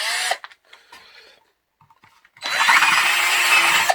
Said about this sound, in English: bring the drill hole gradually towards the circumference we've drawn